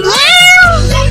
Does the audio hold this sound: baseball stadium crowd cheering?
no